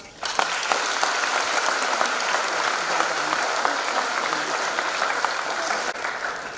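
A great round of applause fills the hall at the Kathmandu Dialogue opening ceremony, thick and continuous crowd clapping that stays loud and even from start to finish.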